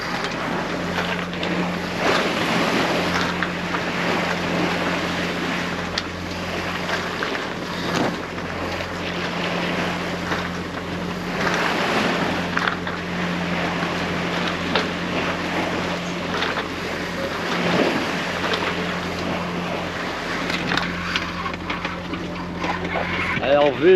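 Sea water and swell wash beside a sailboat with the microphone near the waterline, a continuous loud rush of water and wind buffeting, with a steady low hum underneath.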